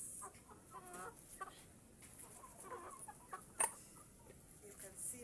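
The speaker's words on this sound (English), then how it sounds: "The chicken are all over wondering whether they should eat this" Chickens cluck and scratch around an African village yard as pumpkin leaves are cut for an evening meal, the clucks faint and scattered over low ambient noise, with one sharper, louder cluck midway.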